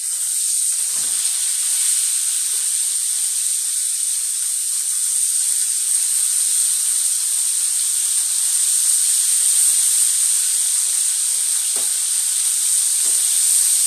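Pork chops frying in a pan, a steady bright sizzle and hiss held at an even level throughout, with a few faint clicks and small bumps beneath.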